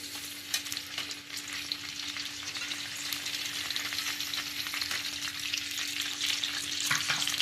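Mustard seeds and curry leaves fry in hot oil for a Tulunad-style mushroom curry, giving a steady crackling sizzle with scattered pops and light stirring, rising slightly toward the end, no voices.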